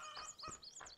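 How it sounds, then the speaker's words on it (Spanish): Faint clucking and chirping of video game chickens, a few short warbling calls in quick succession, quiet and distant. "Te juro que escucho gallinas."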